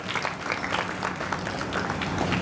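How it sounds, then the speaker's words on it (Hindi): Loud, continuous audience applause at a state-level awards ceremony, a dense roar of many hands clapping at once, close and steady with no speech over it. "जोरदार तालियां।"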